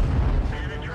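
A single deep, rumbling tank gun blast in World of Tanks, heavy low boom rolling out over one second with a voice talking beneath it.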